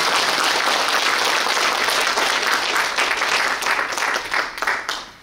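Ceremony audience at a 2024 Suncheon tourism day awards event clapping for the city mayor: loud, dense applause from a sizable crowd that holds steady, then thins and fades out near the end.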